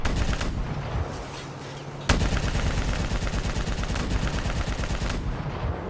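Heavy gunfire in a Call of Duty: Black Ops III battle cutscene, a dense, loud, continuous barrage of automatic fire and blasts with a sharp jolt partway through, no voices.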